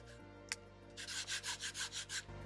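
Gritty textured face of a Halo X5 pickleball paddle rubbed in close, steady rhythmic strokes, about seven even scrapes in a row after a single faint tap, with no talking over it.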